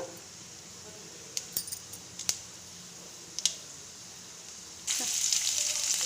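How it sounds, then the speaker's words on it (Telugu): Mustard seeds, with a little urad dal and chana dal, pop and splutter in hot oil as a handful of sharp isolated cracks over a quiet sizzle, ending in a louder burst of frying. "బాగా ఆవాలు చిట్టపట్లాడాక"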